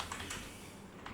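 Soft, quick computer keyboard typing, a short burst of faint key clicks heard close with no talking.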